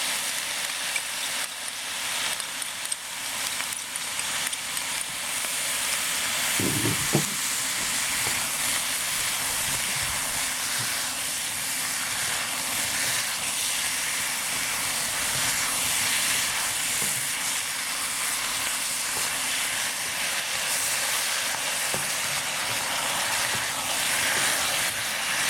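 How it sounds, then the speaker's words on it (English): Sauce hits a hot pan of shrimp and baby bok choy, producing a loud, continuous sizzling hiss that swells briefly early on and then holds steady. "And I'm going to put all the sauce in it."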